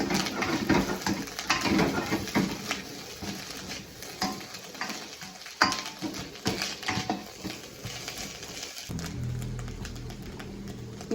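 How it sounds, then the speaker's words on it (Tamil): Onion and carrot sauté in a hot pan for egg fried rice, a steady sizzle with stirring scrapes and occasional utensil clinks running throughout, fairly close and without speech. "அடுத்ததான் கேரட் ரெண்டையும் போட்டு வதக்குவோம்."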